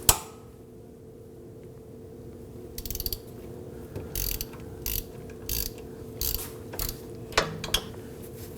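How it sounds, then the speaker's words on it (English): A ratchet loosens the 15mm upper bolts on the rear wheel hub assembly of a 2001-2009 Volvo S60 2.5L FWD, giving short, close bursts of rapid clicking, about seven strokes spaced a second apart over faint hum. "we're going to go ahead and tackle these two top bolts here first"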